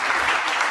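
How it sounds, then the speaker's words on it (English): A conference audience breaks into applause, a short, dense burst of clapping at steady strength. "Big round of applause."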